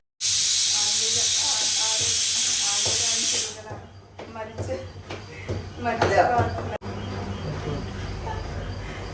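A loud, steady pressure cooker whistle hisses for a few seconds, then stops, leaving kitchen clatter and people talking.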